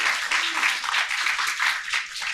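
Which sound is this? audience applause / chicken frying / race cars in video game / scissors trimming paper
audience applause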